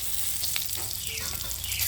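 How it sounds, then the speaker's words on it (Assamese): Dry red chillies fry in hot oil in a wok, producing a steady close hiss of sizzling with faint crackles throughout. "তাৰপৰা শুকান জলকীয়া দিছোঁ"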